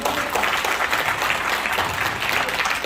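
At a Rotary club gathering in Sokcho, an indoor audience claps warmly, a continuous, even burst of applause heard alone at moderate loudness.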